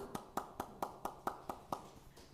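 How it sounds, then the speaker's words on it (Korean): A church congregation at an early-morning service gives a round of clapping, about nine sharp, evenly spaced claps in a quick steady rhythm, fairly faint and heard alone without talk. "앞뒤 좌우 박수 한번."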